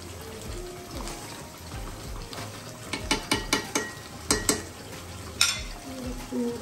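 Bengali crab curry (kankra kalia) fries with homemade ghee in a pan and sizzles steadily up close. A spoon stirs and scrapes through it in a quick run of rhythmic strokes, then a few more knocks, with no talking.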